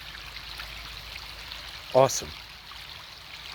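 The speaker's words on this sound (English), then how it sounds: "So we got like a river on the side of our house here." A swollen river running beside a house after heavy snow and rain gives a steady, soft rushing wash throughout, with one brief spoken word partway through.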